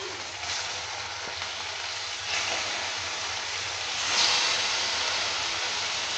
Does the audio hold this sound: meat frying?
yes